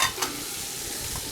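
Potatoes stirred into a pan of frying onion and tomato for veg biryani, a steady close sizzle with a couple of scraping stir strokes, and no voices.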